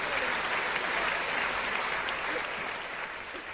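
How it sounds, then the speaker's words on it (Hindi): Loud, dense applause from a large audience at a live stage event, steady and close for a few seconds before easing slightly. "एक बार जोरदार तालियों से आप स्वागत करिए"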